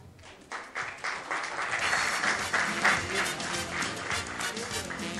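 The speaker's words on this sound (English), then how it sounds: "A big round of applause for that, please." An audience at a film launch event breaks into applause, a dense wash of many hands clapping that swells quickly and holds steady at close range, with scattered voices mixed in.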